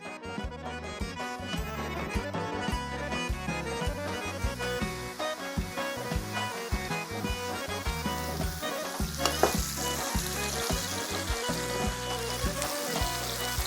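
Vegetables sizzle in olive oil in a pan with a continuous close crackle, and regular scraping and tossing runs through it.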